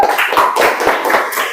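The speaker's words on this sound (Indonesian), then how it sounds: "tepuk tangan buat kelompok Soekarno biar makin semangat" A school group being applauded in a classroom, a short burst of sharp, uneven hand claps close by, fairly loud and with no talk over it.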